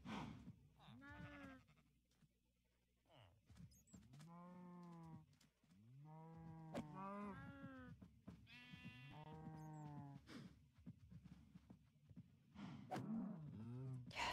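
Sheep bleating in the video game Minecraft, several wavering bleats in sequence mixed with cow moos, loud and close and spread across the whole stretch, with no talk over them.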